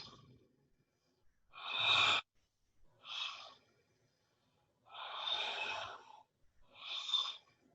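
Slow, deep breaths during a guided breathwork exercise, several distinct inhales and exhales spaced a second or so apart, close and fairly soft in an otherwise quiet room.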